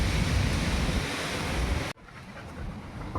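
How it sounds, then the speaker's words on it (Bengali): Strong wind gusting hard on a hot day, roaring loudly against the microphone for about two seconds, then cutting off sharply and returning as a softer, steady rush. "দেখ বাপরে কি হাওয়া, উড়িয়ে যাবে"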